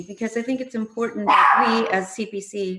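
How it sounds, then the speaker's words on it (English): An old dog barks in the background of a community police commission meeting, a short burst of yappy barks cutting across someone speaking at close range. "I apologize for that dog. She's old and doesn't know how to stop barking."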